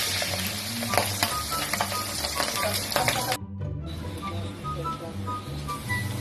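Pork belly for lechon kawali deep-frying in hot oil, a loud continuous close sizzle and crackle with bursts of spattering, briefly dropping out before the frying resumes.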